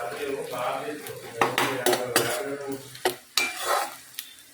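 Onions sizzle in hot oil while a utensil stirs and scrapes the pan, with several sharp clinks of metal against the pot.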